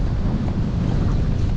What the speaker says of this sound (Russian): просто дует сильный ветер, большая волна